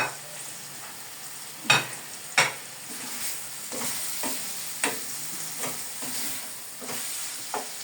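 Fresh okra sizzles in a pan with tomatoes and meat, a steady frying hiss broken by sharp stirring scrapes and clacks at irregular intervals.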